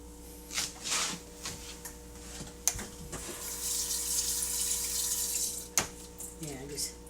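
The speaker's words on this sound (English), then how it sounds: "Yeah, just get some water over it." Tap water runs steadily over beef liver being rinsed in a kitchen sink, a continuous splashing hiss with a few sharp clunks, while a person talks intermittently over the flow.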